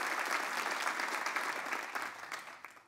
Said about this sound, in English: Let's give a round of applause and thanks to Ilan, Leah, Jeff, Noah,